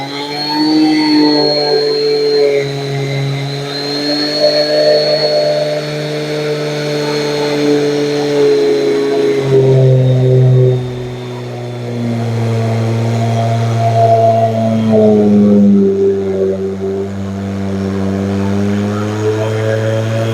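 A hand router cuts a 4mm-deep slot for a second slot car lane into 6mm MDF, a loud steady motor whine with shifting pitch that dips and rises as the bit bogs and recovers, running continuously up close.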